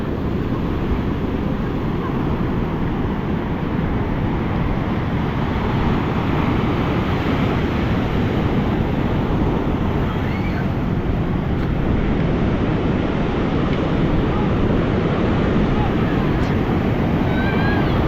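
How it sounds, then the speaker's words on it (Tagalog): Strong ocean surf rolls and crashes at a beach in Baler, a loud, continuous roar of breaking waves mixed with heavy wind buffeting the microphone. "Grabe yung alon, no?"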